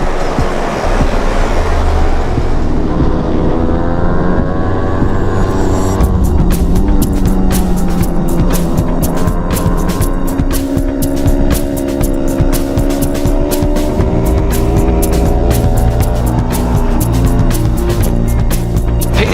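Road racing motorcycles at the start of the North West 200 race make a loud droning engine roar, then a dense wash of revving and passing machines that stays steady and close to the end.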